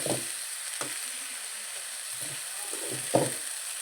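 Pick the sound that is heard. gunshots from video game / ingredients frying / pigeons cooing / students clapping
ingredients frying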